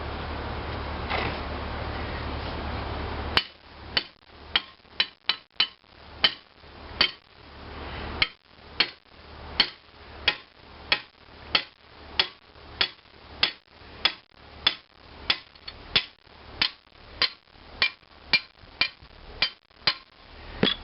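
A hammer knocks a gib key out of a 1920 International Type M engine, with sharp metallic blows striking at a steady pace roughly every half second, loud and close, after a few seconds of background noise.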